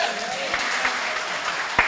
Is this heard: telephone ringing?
no